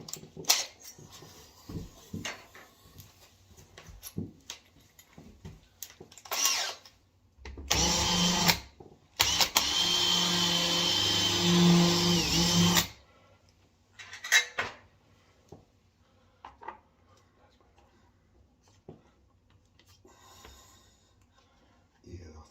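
A power drill countersinks screw holes while a door is hung, running in two sustained loud bursts mid-clip, with scattered clinks, handling noises and faint voices around them.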